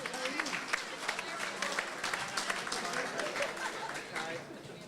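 A gala dinner crowd applauds the year's top 10, sustained clapping from many hands with voices chattering and calling out underneath, fairly dense and close throughout.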